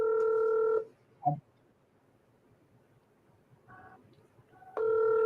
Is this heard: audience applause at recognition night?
no